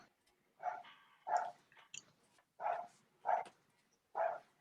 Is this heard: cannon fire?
no